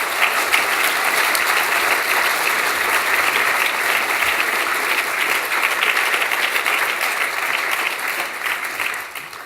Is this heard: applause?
yes